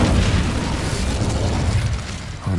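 A sustained roaring, crackling fire blast from the Incendio spell in Hogwarts Legacy fills the space loudly and evenly for over two seconds before fading slightly at the end.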